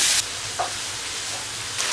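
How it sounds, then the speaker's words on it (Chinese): Ginger, garlic, dried chilies, Sichuan peppercorns and star anise sizzle in a hot wok, a bright steady hiss with short louder bursts at the start and end. "姜、蒜、干辣椒下锅，弄个20颗花椒"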